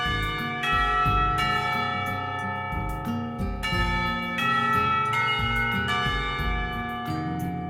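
A school bell in the Katawa Shoujo visual novel rings out loud and sustained, its rich tolling tones repeating over several seconds with no voices.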